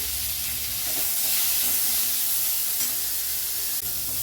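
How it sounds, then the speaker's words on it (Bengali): Green chillies, peanuts, cashews and chopped tomato fry in a pan with a loud, steady sizzle and hiss, close and continuous, with no voices. "সব দিয়ে সামান্য একটু নুন দিয়ে মশলাগুলো আমি ভেজে নেব।"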